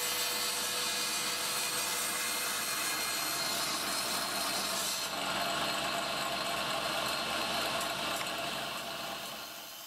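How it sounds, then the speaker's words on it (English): A saw cuts angled wood pieces on a sled for a segmented wood-turning ring, a steady loud whining roar running continuously with a slight shift midway, close and alone. "Let's go ahead and cut some of these, and I'll come back and we'll flip it around and cut the other side."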